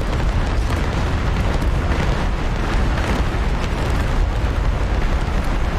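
A bomb explodes in a war video game set in the 1940 Blitzkrieg of France, with an A-10 Warthog attacking armour: a loud, sustained, rumbling roar of blast noise that fills the whole stretch without a break.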